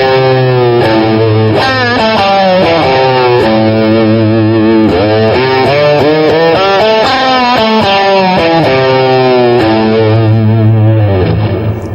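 Electric guitar notes bent with the tremolo bar, pitches sliding and falling away in a loud, distorted run of repeated dives and swoops that rises again near the end.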